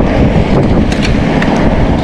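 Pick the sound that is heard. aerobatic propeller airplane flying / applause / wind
wind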